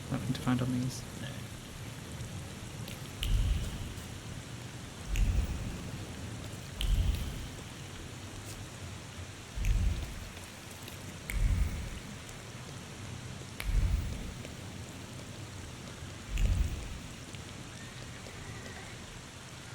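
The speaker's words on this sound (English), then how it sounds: "Oh, it's raining." Steady rain hisses throughout in the video game The Thaumaturge while low rumbles of thunder roll in at regular intervals, each swelling and fading, with no voices.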